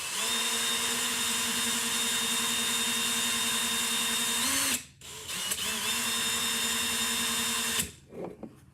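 A power drill with a pointed bit whirs steadily at high speed drilling through a plastic cup, cuts out briefly, then spins up again before stopping with a few rattling noises.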